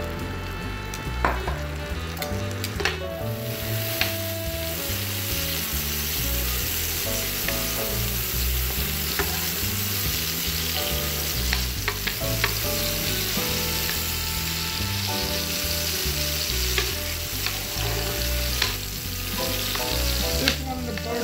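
Butter and olive oil sizzling in a pan before cod goes in, a loud continuous crackling fry with faint scattered clinks throughout, no talk.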